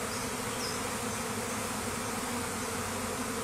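A honeybee swarm hums in a dense, steady drone that fills the air evenly and continuously, close and unbroken with no voices.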